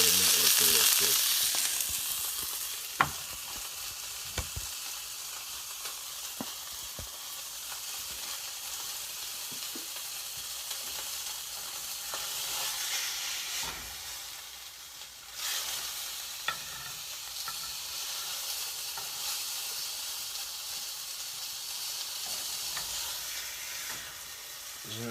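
A thick beef burger patty sizzles on a grill for a bacon cherry cheeseburger, a steady close hiss with occasional spatula clicks and scrapes, no talking.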